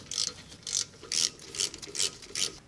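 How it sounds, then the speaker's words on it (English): Ratchet wrench tightening the brake caliper bolts on a Volvo S60/S80/V70/XC70, six quick bursts of clicking spaced about every half second, close and fairly quiet, with no talk. "go ahead and install your caliper bolts."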